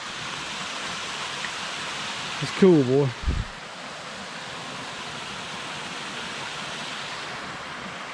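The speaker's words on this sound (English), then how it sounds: "Little waterfall coming off of there." A small waterfall after rain, fed by runoff, rushes in a steady broadband wash throughout, while someone speaks briefly over it partway through.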